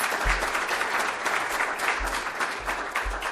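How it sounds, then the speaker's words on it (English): A morning chamber of commerce audience at a board officers installation gives a round of applause, steady, dense clapping filling the room at moderate loudness with a few low thumps. "So give yourself a round of applause."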